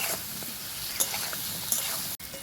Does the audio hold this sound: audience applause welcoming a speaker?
no